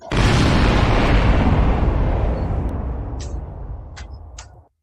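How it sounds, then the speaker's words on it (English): A single massive explosion sound effect erupts at once into a loud, dense roar that holds for a couple of seconds, then rumbles and fades out, with a few faint clicks near the tail. "Let me give you your explosion."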